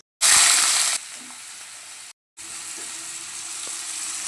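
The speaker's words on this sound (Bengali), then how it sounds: "আজ রাতে রান্না করছি চিকেন কষা এবং ফ্রাইড রাইস" Chicken kosha frying in a pan: a loud burst of hissing sizzle that settles into a steady, softer frying crackle, briefly cut off and then resuming, close and continuous with no voices.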